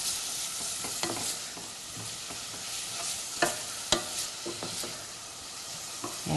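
Tomato sauce with carrot sizzles quietly in a pan under a spoon, with an even low hiss broken by several sharper scrapes and knocks from the stirring. No one speaks.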